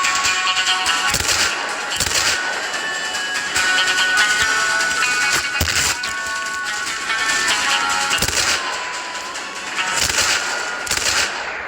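Gunfire in the video game Dead Rails, dense rapid bursts of loud shots and cracks stacked over game music and tones, continuous and close throughout, with no talking.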